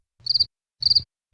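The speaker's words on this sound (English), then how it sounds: "Yeah, that's right. Crickets." Crickets chirp in short rhythmic trills, three clear bursts spaced evenly apart, each a quick pulsing chirp, close and distinct against silence.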